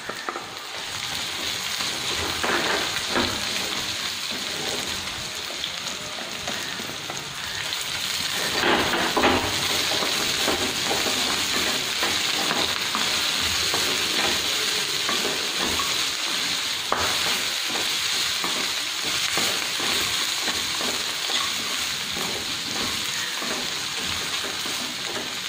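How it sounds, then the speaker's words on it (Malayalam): Chilli chicken frying in a pan gives a steady, loud sizzle throughout, with occasional scraping and stirring noises and no talking. "മിക്സിൽ കിടന്ന് ചിക്കൻ ഒരു 3 മിനിറ്റ് നേരം കുക്കാവാനുണ്ട്."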